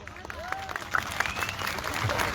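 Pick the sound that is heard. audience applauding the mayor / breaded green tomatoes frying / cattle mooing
audience applauding the mayor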